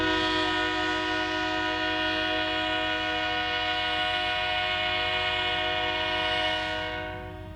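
An SD40-2M diesel locomotive in Union Pacific colors sounds a long, steady multi-tone horn blast over engine rumble, loud and close, fading slightly at the end.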